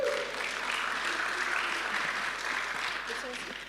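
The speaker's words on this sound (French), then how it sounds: "Est-ce qu'on peut applaudir Samuel?" Church congregation applauding after a sermon, sustained mixed clapping from many hands, moderately quiet and somewhat distant, fading slightly toward the end.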